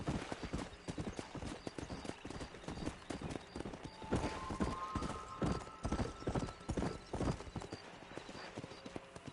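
Horse hooves clip-clopping in Red Dead Redemption, a quick, steady clatter heard up close, with a brief whinny-like tone in the middle and the pace continuing throughout.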